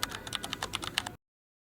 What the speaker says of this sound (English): In the search box just type appeal,